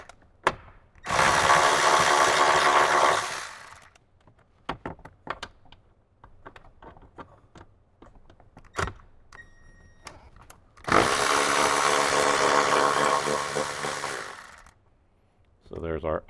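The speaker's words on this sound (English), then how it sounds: "So go ahead, get our impact gun. So there's our first 13mm bolt." An impact gun spins out 13mm bolts inside a 2018–2023 Jeep JL during a speaker install: two loud, sustained rattling bursts of a few seconds each, separated by quieter handling clicks and brief speech.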